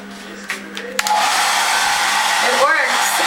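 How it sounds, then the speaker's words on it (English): A hair dryer switches on after a couple of clicks and blows with a loud, steady whoosh, close up, its pitch wavering briefly near the end. "So we have a really fancy hair dryer."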